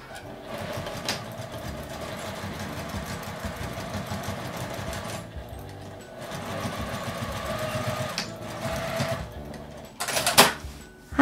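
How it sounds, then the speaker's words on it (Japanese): A sewing machine stitching canvas for a tote bag, running in steady rapid bursts of close mechanical chatter with brief pauses between runs and a few sharp clicks near the end, no talking. "真ん中から5センチずつ10センチ縫います。"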